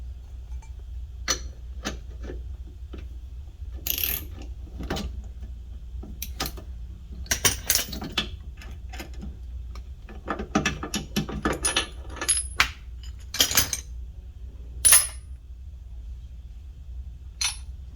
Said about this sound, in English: just crank this bad boy down the rest of the way and it should pull the race out